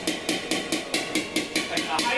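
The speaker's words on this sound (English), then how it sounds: "got my dolly on the back side, I got my hammer here" A hammer strikes motorcycle sheet metal backed by a dolly to flatten a high spot, about ten quick, evenly spaced metallic taps ringing close up.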